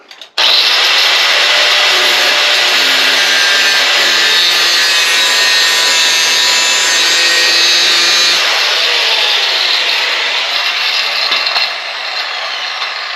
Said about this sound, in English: We're going to cut the slot, and then we're going to take that screwdriver and pull them out.